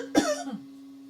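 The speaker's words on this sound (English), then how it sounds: "Excuse me, I got a cough." A single close, abrupt cough with a short throaty tail, followed by a steady low hum in an otherwise quiet room, during a DJ software tutorial.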